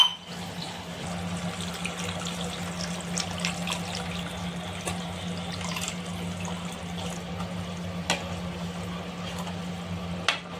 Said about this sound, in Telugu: ఈ పిప్పిలో ఇంకా కొద్దిగా వాటర్ వేసి రెండవ సురి జ్యూస్ తీయాలి